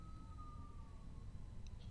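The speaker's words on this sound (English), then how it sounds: "sorry, a lot of police cars going by." Police car siren passing in an Indianapolis street, a thin wailing tone sliding slowly downward, faint and distant over a steady low rumble of traffic and room noise.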